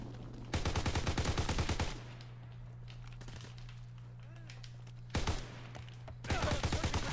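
Call of Duty: World at War beta gameplay on a snowy map, with long bursts of rapid automatic gunfire in separate volleys, loud and close, separated by stretches of low background hum.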